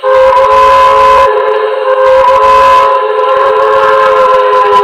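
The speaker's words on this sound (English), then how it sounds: "here's the whistle that we have programmed in right now" A loud, sustained steam whistle from a Paragon 2 Hudson model locomotive sounds with a steady multi-tone chord, briefly dipping and swelling over its length.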